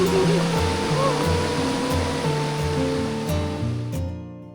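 A river flows below a basket ride stretched 100 meters across it, giving a loud, steady rushing wash that fades near the end, with music playing over it and no talking.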